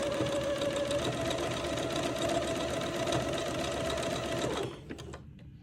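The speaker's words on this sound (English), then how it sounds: "so this is going to take me a while to zigzag this on." A sewing machine runs a long zigzag stitch, attaching entredeux and insertion lace for a Christmas dress, with a close, steady mechanical whir and rapid rhythmic needle clatter that stops abruptly near the end.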